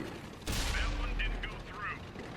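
A tank cannon fires in World of Tanks on Xbox, one sudden loud boom with a deep low rumble that fades over a second or more, followed by faint mechanical clanks and scattered game effects.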